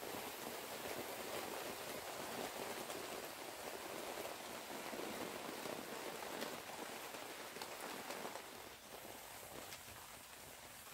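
Steady rain falls at an outdoor camp, a dense even hiss of drops on surfaces continuing without a break for the whole stretch, fairly soft and constant, with no voices.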